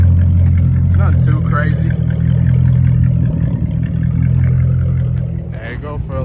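A 2006 Chrysler 300 Hemi V8 idles warm with a steady, loud low rumble throughout, while someone talks briefly over it.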